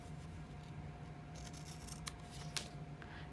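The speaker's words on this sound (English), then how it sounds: "And I'm gonna take and trim these top and bottom." Scissors trimming the top and bottom edges of junk mail envelope paper, a few quiet, short snips and crisp cuts over a low steady background hum.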